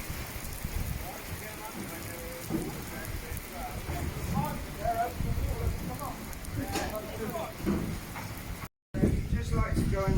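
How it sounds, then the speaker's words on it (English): Heavy rain pours down steadily outdoors on a farm, a broad continuous hiss of drops on surfaces, with someone talking intermittently over it. "we are having a lovely downpour."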